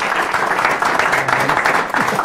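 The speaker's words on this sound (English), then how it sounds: "how about a round of applause for the man" An audience applauds as Olympic photojournalist Dan Powers is introduced at a talk, with steady, dense clapping throughout and some voices mixed in.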